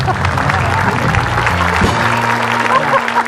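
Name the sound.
applause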